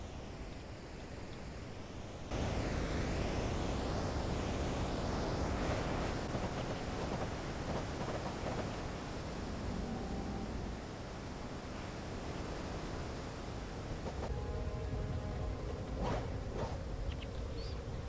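Steady broadband rushing of a video game waterfall close by, continuous and loud throughout with no voices.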